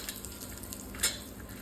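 Mustard seeds and asafoetida sizzle in hot oil in a pan while khichdi is tempered, a steady soft crackle with one brief sharper pop of spatter near the middle.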